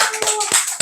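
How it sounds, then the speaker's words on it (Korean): A Korean Sunday church congregation applauds one another in encouragement, a few scattered, close hand claps over a short burst. "서로에게 격려의 박수 한 번씩 보내드리기 바랍니다"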